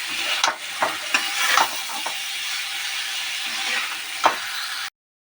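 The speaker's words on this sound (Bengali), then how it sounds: "আমি এবার কবিটাকে এর মধ্যে দিয়ে দেবো একটু ভালোভাবে নেড়ে চেড়ে নিতে হবে" Cauliflower pieces fry in a pan and are stirred, with scattered clinks and scrapes of a spatula over a steady hissing sizzle, close and moderately loud, no voices, ending abruptly.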